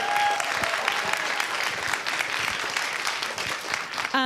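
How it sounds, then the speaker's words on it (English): Audience at an evening author event with two writers applauds warmly, a steady, moderately distant patter of many hands sustained for several seconds before tapering at the end. "Can we have a big round of applause for Sarah and Lindsay?"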